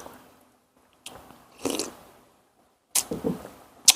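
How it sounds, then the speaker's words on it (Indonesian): Coffee is sipped in a few short, slurping pulls with brief pauses between them, close and fairly quiet in an otherwise silent room. "Oke, udah seruput kopinya."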